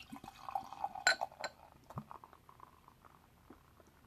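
Founders Kentucky Breakfast Stout, the 2016 release, poured from the bottle into a snifter glass, with a short liquid patter and a bright glassy clink near the start, then a quieter trickle that fades.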